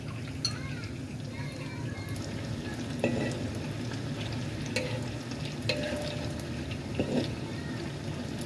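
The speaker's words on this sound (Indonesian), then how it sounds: "Ini kita goreng hingga sampai dengan bagian sisinya itu kuning kecoklatan atau kering ya teman-teman," Crispy egg tofu fries in a pan with a steady oily sizzle, broken by occasional sharp pops and scraping stirs, close and continuous.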